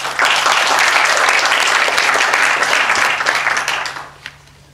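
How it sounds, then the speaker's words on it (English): Loud, dense applause from a conference audience welcoming a speaker at a UX event, a full steady roar of clapping that holds for about four seconds and then tapers off quickly. "So please give a warm applause for Petr."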